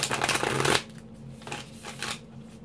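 A quick burst of tarot cards riffling and rattling, lasting under a second, followed by softer faint handling noises.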